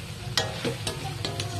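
Native chicken, already pressure-cooked, being sautéed in a pan for adobo: a few separate stirring scrapes and a soft sizzle over about two seconds, close by, with no talking.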